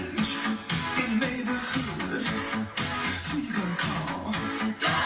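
A song plays with a full band, a prominent, bouncing bass line under dense drums and other instruments, continuous and fairly loud.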